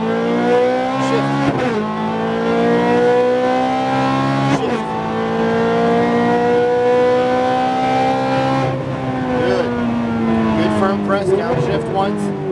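Ferrari F430 engine accelerating up a hill on track, heard from inside, its pitch climbing steadily through the gears with brief dips at each shift, loud and continuous.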